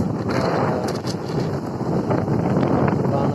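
Strong wind at a lakeside buffets the microphone in a constant, loud rushing roar with no breaks.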